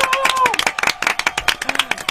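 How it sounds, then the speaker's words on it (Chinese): Studio audience clapping during a radio interview recording, a short burst of quick overlapping claps mixed with excited chatter and voices throughout. "掌声"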